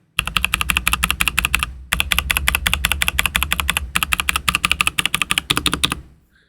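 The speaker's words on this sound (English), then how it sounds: "here's what the standard keys sound like the" Fast typing on unlubed standard mechanical keyboard keys, a dense close run of crisp, clacky keystrokes in three bursts separated by brief pauses, loud and alone.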